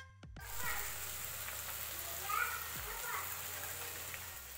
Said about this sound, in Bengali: আবারও আমি টমেটোটাকে খুব ভালো করে পেঁয়াজের সাথে মিশিয়ে নিচ্ছি তেলের মধ্যে